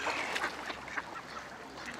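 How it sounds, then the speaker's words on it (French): Ducks in courtship display at the Jardin des Plantes in Nantes on a freezing winter day quack and honk faintly within a dense, steady outdoor wash of noise, with no clear single voice standing out. "les températures négatives n'ont pas refroidi les ardeurs des canards qui ont entamé leur parade nuptiale"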